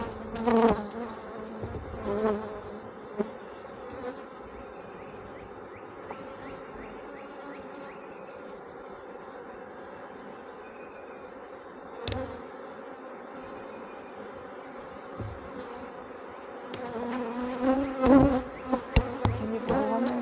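Honeybees buzzing at the front of a beehive on a homestead, a steady close swarm drone with individual bees passing near; no talk.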